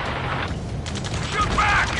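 Sustained gunfire rattles through a battle scene in the combat flight game Ace Combat 7: Skies Unknown, a steady noisy wash with scattered shots, metallic clanks and tonal warbles, no voice heard.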